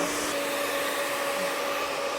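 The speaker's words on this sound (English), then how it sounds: "I like to do most of the straightening with the blow dryer" Hair blow dryer running steadily during hair straightening, a loud continuous whooshing roar with a faint tonal whine, close by and alone without talk.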